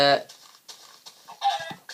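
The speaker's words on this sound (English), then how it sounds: "Let's try and get a chicken." A Minecraft chicken clucks in short, clipped bursts, a few separate squawky calls spaced out over two seconds, close and fairly clear.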